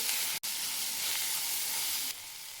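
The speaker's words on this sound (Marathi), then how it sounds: "टोमॅटो टाकायचे. तेलामध्ये भाजायचे." Tomatoes and onion frying in hot oil give a loud, steady sizzle and hiss, with a brief stir interrupting early and the frying continuing close up without any talking.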